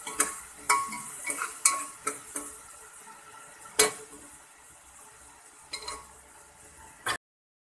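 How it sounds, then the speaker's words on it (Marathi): Green chili, ginger and garlic paste sautéing in oil for a vegetable dish, heard as a soft sizzle with repeated scrapes and clinks of a spoon against the pan, alone without talk. "आणि त्यात आपण वाटून घेतलेलं हिरवी मिरची, आलं आणि लसूणचं वाटण सुद्धा आपण घालून घेऊया आणि चांगलं परतवून घेऊया तेलामध्ये"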